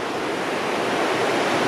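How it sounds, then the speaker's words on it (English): Water crashes over boulders in a steady, loud, dense roar of rushing turbulence that holds unbroken at close range, with no voices. "just listen to the sound of the water crashing over the boulders"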